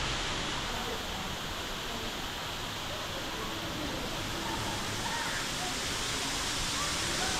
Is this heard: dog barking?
no